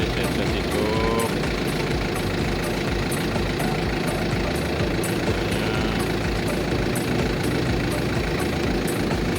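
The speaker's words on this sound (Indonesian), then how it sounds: "Start, on. Genset hidup." Genset engine running steadily at a close, loud, continuous idle with a knocking diesel rumble throughout.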